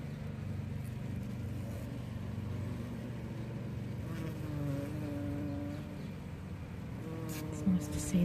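Honey bees feeding on a pollen patty in a hive, making a steady low droning hum up close, with faint background noise and brief sharper sounds near the end.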